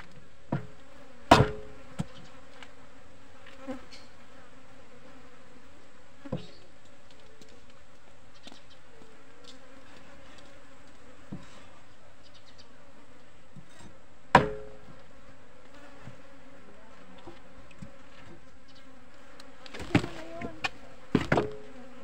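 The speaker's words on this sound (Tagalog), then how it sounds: "Langaw." Flies buzz around food at a market stall selling pork innards, a faint steady drone under quiet surroundings, broken by a few sharp knocks and chopping thuds.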